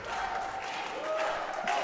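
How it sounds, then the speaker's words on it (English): A crowd at a women's singles racquetball world championship match chants and cheers in a steady, dense wash of voices that stays at a fairly even level throughout. "You hear the crowd chanting."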